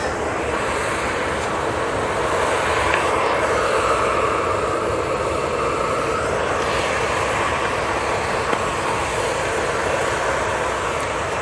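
An Airbus A330 airliner at Manchester Airport gives off a continuous, strong engine roar that holds steady, with faint pitch sweeps as it moves past and no talking.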